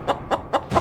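Four short, sharp clucks from a bird come in an even rhythm, each one clear and close, with no other sound around them.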